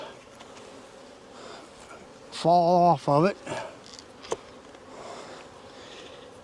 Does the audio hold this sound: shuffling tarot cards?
no